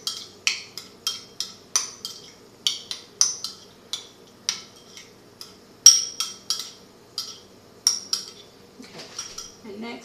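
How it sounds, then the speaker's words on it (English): Beets being mixed with mustard in a bowl: a brisk, irregular series of bright clinks and scrapes of a utensil against the bowl, close and clear with no talking. "Mix the beets and the mustard together."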